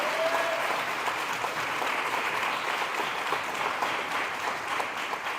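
Sustained audience applause at the 2023 Women of the Dream Scholarship and Awards Ceremony, a dense, even wash of clapping from a full room that holds steady throughout.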